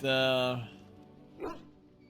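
A dog in the video game Dragon Age Origins gives one loud, drawn-out bark, followed a moment later by a shorter, fainter yelp, with talk close by.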